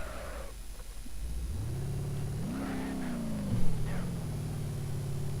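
A car engine in BeamNG.drive strains up a steep hill at low speed, a steady mid-pitched drone that rises and falls in pitch as the revs shift, with a brief louder surge partway through.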